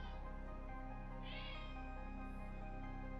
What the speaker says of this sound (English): the cat won't shut up